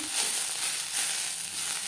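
Bottle gourd seeds fry in a pan over a gas flame with a steady, close, even hiss and sizzle.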